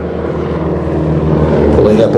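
Loud, continuous engine drone of an aerobatic display aeroplane at the East Fortune air show, a rough droning roar rising slightly in pitch near the end, with a public-address voice talking over it.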